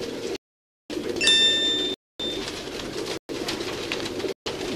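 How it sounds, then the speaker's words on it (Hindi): Teddy pigeons on a rooftop, cooing softly amid steady outdoor background noise, with a brief clear ringing tone partway through and a few short breaks in the sound. "ये देखें जी टैडी कबूतर है तमाम दोस्तों की स्क्रीन पर"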